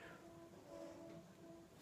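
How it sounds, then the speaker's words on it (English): A train far off gives a faint, sustained tonal drone with a soft rumbling wash, very quiet and distant throughout. "The noise a train makes."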